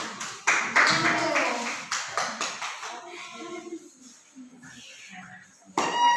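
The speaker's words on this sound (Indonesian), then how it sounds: "Yang lain boleh tepuk tangan," In a classroom, students clap for a group of three walking to the front, a burst of uneven, close hand claps that thins out, with talking and a chime-like tone near the end.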